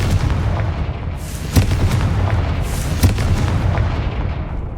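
Confringo blasting spells in the video game Hogwarts Legacy, a couple of sharp booming blasts over a dense low rumble of battle, loud and close, with no talking.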